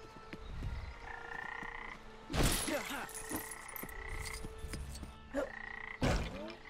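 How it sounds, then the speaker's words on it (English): Frogs and toads croak in the LEGO Jurassic World video game, repeated sharp croaks over a steady game ambience with tonal music, two louder croaks standing out. "These frogs, these toads."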